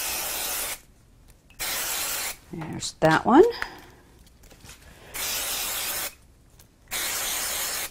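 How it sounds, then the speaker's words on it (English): An aerosol can of spray glue hisses in several short bursts with pauses between, close by, and a brief spoken remark falls in the middle. "I'm going to add a bit of spray glue to both of these"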